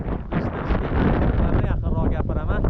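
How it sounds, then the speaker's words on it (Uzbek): Strong wind buffets the microphone on the Toshtepa mountain summit at 2045 metres, a loud continuous roar with gusty rumble throughout, and faint voices mixed in. "tepada shamol bor"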